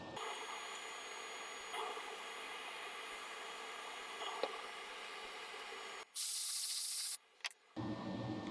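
Flux residue being cleaned off the circuit board of a Samsung QN75Q90R One Connect box, a steady soft scrubbing hiss throughout, then a sharp loud spray burst near the end, close and with no talk.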